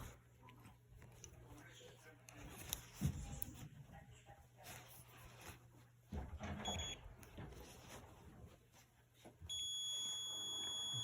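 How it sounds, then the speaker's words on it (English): A multimeter beeps on a continuity test while checking parts of a clothes dryer that is not heating. Thin tones come in short bursts and then a sustained stretch toward the end, partly under background noise and movement. "I hear beeping. That means it has continuity."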